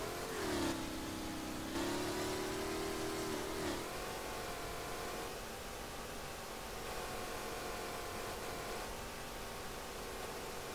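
A VR38DETT engine swapped into a Nissan 350Z in the racing game Street Legal Racing Redline revs hard, with a loud, continuous engine drone whose pitch climbs and dips early on, then settles into a steady high whine.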